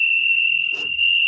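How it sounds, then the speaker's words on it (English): A recording of crickets plays during a livestream, a steady high chirping drone running throughout with a brief faint rustle in the middle, no talk over it. "I typed in cricket sounds."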